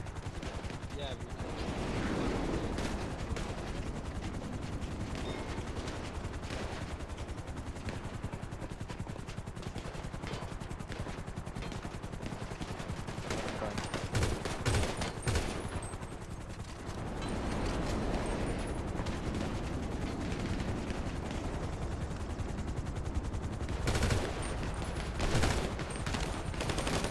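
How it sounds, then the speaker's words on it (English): Sustained automatic gunfire aimed at a helicopter during an aircraft carrier defence, dense rattling bursts with louder peaks, under continuous battle noise while people talk on radio. "Stop shooting the one in the air, guys."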